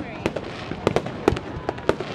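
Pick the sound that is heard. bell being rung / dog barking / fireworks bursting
fireworks bursting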